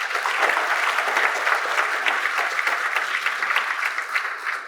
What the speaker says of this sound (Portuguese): Acho que a Kenny merece uma salva de palmas, né?